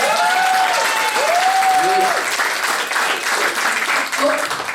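A stand-up comedy crowd applauds in a steady, loud wash of clapping, with a performer's voice speaking over it throughout.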